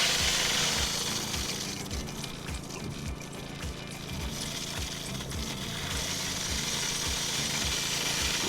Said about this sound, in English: Too much back pressure on the Venturi, you can hear it.